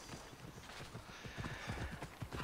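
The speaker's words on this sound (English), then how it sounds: "A horse, of course." A horse trots along in the video game Assassin's Creed Odyssey, its hooves clip-clopping in a quick, steady rhythm, close and fairly quiet, with no talk over it.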